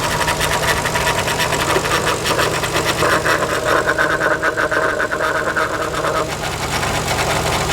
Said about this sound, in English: That is a very noisy power steering pump.